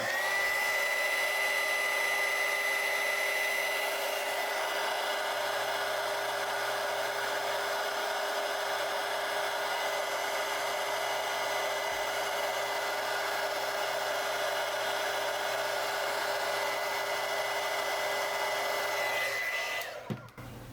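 A heat gun blows steadily on a crimped wire connector for an antenna build, a continuous close whirring hiss with a faint tonal whine that holds for about twenty seconds before cutting off.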